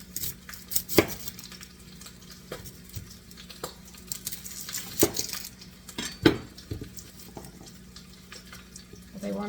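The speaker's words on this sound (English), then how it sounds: "So we're only going to slice these onions." A knife slicing onions into thin half moons on a board for lamb shanks, giving scattered sharp cuts and taps with soft rustling between, close and moderately loud over a faint steady hum.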